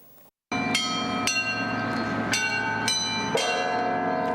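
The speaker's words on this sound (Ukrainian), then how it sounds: "О 10-й ранку усі церкви столиці дзвонили в дзвони" Church bells ring across Kyiv at ten in the morning for a memorial service honouring those killed in the Second World War. Loud, resonant strikes repeat about every half second to second, over a sustained metallic hum.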